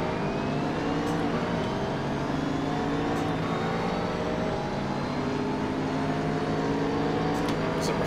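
Several racing engines drone steadily in Assetto Corsa during a Blancpain GT Series race, with a Mercedes SLS closing in from behind, the roar continuous and fairly close with shifting pitch as the cars rev along the track.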